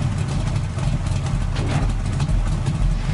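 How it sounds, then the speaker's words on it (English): A 1970s V8 muscle car engine rumbles steadily close by, idling with a deep throaty tone and small swells of revving, continuous throughout. "He's revving his V8 muscle car from 1970s."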